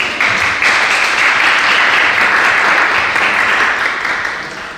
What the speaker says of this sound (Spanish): le pido que le dé un aplauso porque está de cumpleaños